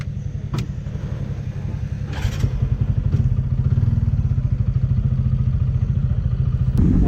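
A motorcycle rides along a rough road, its engine thumping in a steady low rhythm with clattering bumps and occasional knocks, heard close up.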